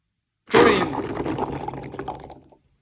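Liquid drains from a can of chickpeas in a sudden splash, then trickles and drips for about two seconds before stopping.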